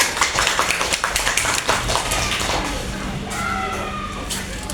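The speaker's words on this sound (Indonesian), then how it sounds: "Tepuk tangan dulu untuk orang ini." Children in a classroom applaud together, a quick burst of many small hands clapping in a fast, uneven patter that fades after a couple of seconds into room murmur and chatter.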